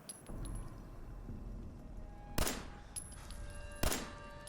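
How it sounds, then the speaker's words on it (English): Two sharp, close 10mm pistol shots ring out in Fallout 4, about a second and a half apart, as bottles are shot off a ledge over a quiet, faintly humming background. "this is what the 10mm is good for, shooting bottles off the ledge"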